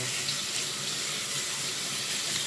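Tap water runs steadily into a sink while stockfish is washed for bitter leaf soup, a constant close broadband rush with no talk.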